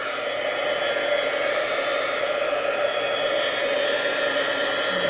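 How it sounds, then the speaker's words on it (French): A heat embossing gun blows hot air in a steady, loud, continuous whoosh with no pauses. "Et je vais utiliser le pistolet chauffant."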